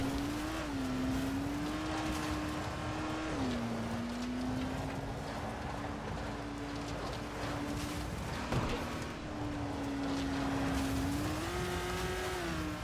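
A car drifting in the Dying Light video game: a steady engine drone that climbs and dips with throttle changes, with a brief tire scrub near the middle, loud and continuous throughout.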